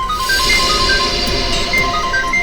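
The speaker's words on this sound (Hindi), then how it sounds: "फोन की घंटी बाहर से आ रही है।" A phone rings in repeated short electronic tones, fairly faint and distant, over a noisy, busy room background.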